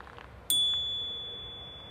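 A single sharp ding from a Knog bicycle bell fitted to a 2022 Carqon Cruise family cargo bike, its bright tone ringing on and slowly fading.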